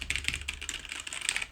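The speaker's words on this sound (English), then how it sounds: "So we can pound on these keys all day long" Keys on a gaming computer keyboard pounded rapidly and hard, a dense run of close, crisp clacks with no talking.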